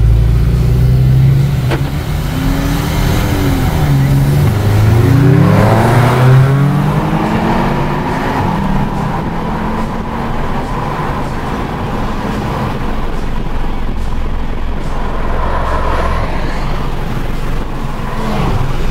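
A turbocharged 1.4-litre Golf with a downpipe and aftermarket exhaust revs and accelerates hard in a drag run, pitch sweeping upward, then settles into a loud, sustained roar with wind noise.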